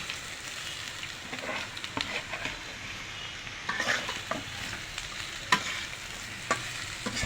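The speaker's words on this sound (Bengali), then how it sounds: "এখন বেজে রাখা চান্দা মাছগুলো আমি দিয়ে দেব" Chanda fish frying with potatoes in a pan, a steady soft sizzle broken by intermittent scraping and clinks of stirring, close up with no talking.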